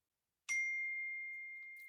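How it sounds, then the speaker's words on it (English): A single clear chime rings out once through a computer and holds a long fading tone over an otherwise silent background, consistent with a phone ring alert. "you must hear the ringing through my computer"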